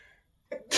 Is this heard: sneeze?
yes